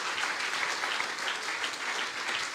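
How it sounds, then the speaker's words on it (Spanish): Church congregation giving a strong round of applause, a dense, even wash of clapping that stays steady and fairly distant without any voices. "Dele ese aplauso fuerte al Señor."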